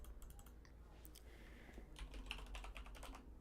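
Rapid typing on a computer keyboard, with clustered key clicks in an irregular rhythm. It is fairly quiet and close, with no talking.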